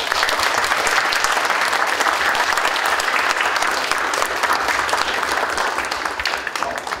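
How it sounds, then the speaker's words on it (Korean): Audience at a Korea University graduate school entrance ceremony claps warmly to welcome a speaker, a loud, sustained wash of many hands that stays steady and tapers slightly near the end. "뜨거운 박수로 환영해 주십시오."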